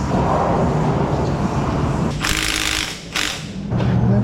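A crow's foot wrench clicks and ratchets while snugging up lines on a 1999 Corvette, with bursts of sharp metallic mechanism noise close by and brief gaps between them.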